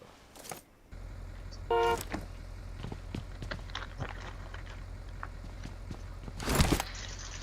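Car engine in the mobile battle-royale game BGMI, droning low and steady through most of the stretch, with scattered clicks, a brief tonal beep and a louder whoosh near the end.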